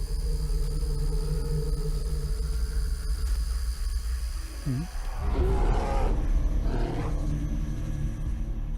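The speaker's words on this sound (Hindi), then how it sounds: "वो भालू की आवाज थी।" A bear's roar as a movie sound effect, a deep growling roar rising out of a steady low rumbling ambience around the midpoint, loud and sustained for a couple of seconds before fading back.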